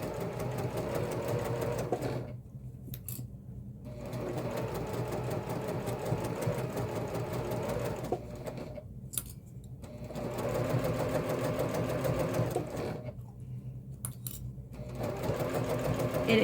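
Sewing machine stitching a pocket onto a messenger bag, running in steady whirring bursts of several seconds broken by three brief stops, close and even.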